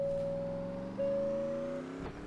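Car engine in the video game Driving Academy, a steady synthetic drone with tonal harmonics slowly rising in pitch as it accelerates, then a brief bump near the end, close and alone without talk.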